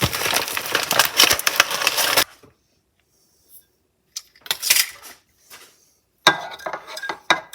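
A spoon mixing two tablespoons of sugar into white chocolate mug cake batter, close clinking and gritty scraping against the mug in quick bursts, separated by silent pauses, with no voices.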